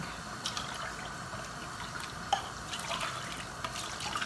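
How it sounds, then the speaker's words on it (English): Water splashing and dripping as cooking cans are rinsed out for red chili, a soft steady trickle with light clinks of the cans, close and fairly quiet with no talking. "I take my other cans and I basically rinse the cans out so that I get"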